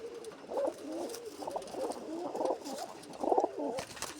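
A pigeon coos in a repeated, rhythmic series of soft, throaty calls, fairly close and quiet, with no speech.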